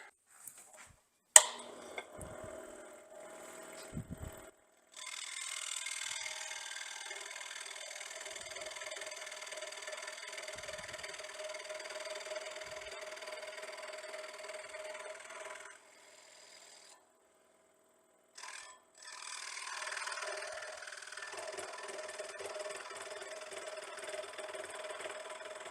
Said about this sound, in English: I think I'm going to use the scroll saw.